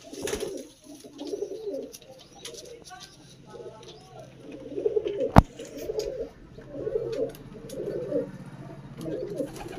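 Repeated soft low cooing from a male pigeon held in hand, in bursts across the whole stretch with one sharp click midway, with faint background murmur.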